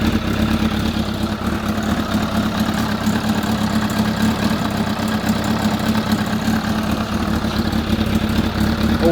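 A van engine idling while it warms up, a steady, loud, low rumble that holds constant throughout.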